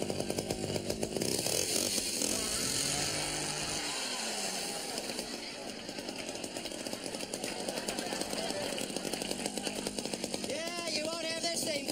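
A 3.5 cubic inch chainsaw with automatic oiling runs steadily for the whole stretch, a loud buzzing engine roar mixed with other noise on a sitcom set.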